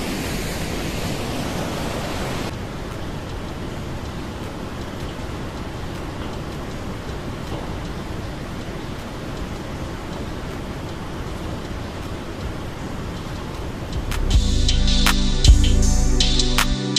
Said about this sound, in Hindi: तो ये बेसिकली यहाँ से ये गिर रहा होता है झरना